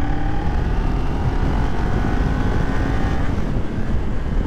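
Steady, loud engine and wind roar from a Kawasaki Ninja 400 motorcycle on throttle along a local road, with a faint rising tone under constant wind buffeting and no talk.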